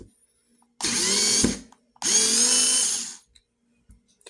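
Ingco cordless screwdriver with about 4 Nm of torque straining to drive a large screw, two loud whirring bursts of roughly a second each separated by a short pause, close up and without talk.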